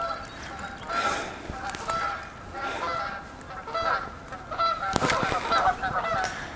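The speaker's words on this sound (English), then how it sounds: "There's a lot of geese down here" A flock of geese honks along a shallow fishing shore, with many overlapping calls sounding from a moderate distance in an irregular, ongoing chorus, while a person speaks briefly.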